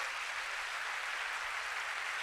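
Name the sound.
audience applause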